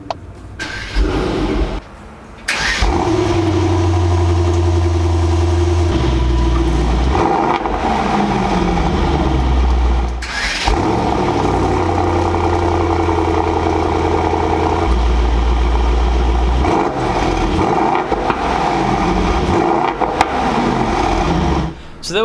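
A Mercedes-AMG GT 63 S 4MATIC+ four-door coupe starts up close by, its engine catching with a burst, then idling with a deep steady rumble and several rising revs and settling drops.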